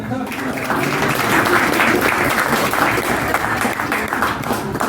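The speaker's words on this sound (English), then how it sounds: "You can applaud." Comedy club audience at a stand-up show breaking into steady applause, loud and dense throughout, with some cheering voices mixed in.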